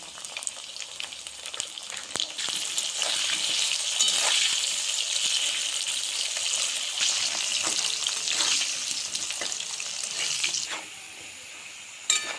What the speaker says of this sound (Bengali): এবার আলুটা ভেজে দিলাম, লবণ দিয়ে দিলাম।